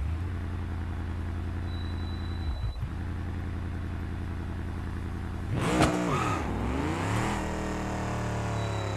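A car engine in the BeamNG driving game at a drag strip, droning steadily at idle, then surging into a loud rising rev with clattering before settling back, close and alone with no talking.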